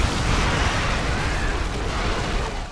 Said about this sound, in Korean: 이제 폭발한다